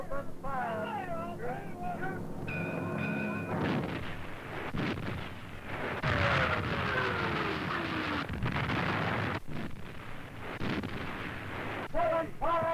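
Heavy naval guns fire at the battleship Bismarck, with deep booming blasts and rumble over a sustained din, along with tonal sounds at the start and end.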